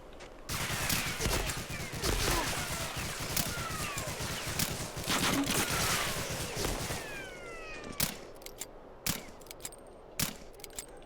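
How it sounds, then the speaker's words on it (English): An MG42 machine gun in Medal of Honor: Allied Assault pours out long sustained bursts for several seconds, then scattered single loud shots and clanks follow as the firing thins out. "the MG42 is just laying into me"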